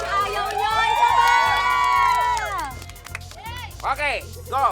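Crowd at a mall show shouting and cheering loudly, with excited high voices rising together, fading briefly, then bursting up again near the end.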